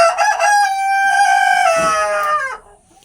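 A single loud crow from a native village rooster close by, one long drawn-out call that rises and then trails off, followed by a brief quiet.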